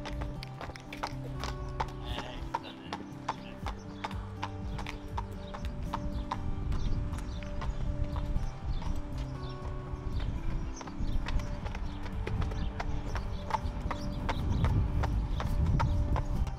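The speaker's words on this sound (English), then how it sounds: "We listen to the rhythm of the horse going and also the impact." Steady clip-clop of horse hooves trotting during a lameness examination, a quick even rhythm of sharp impacts close by, over low rumbling background noise.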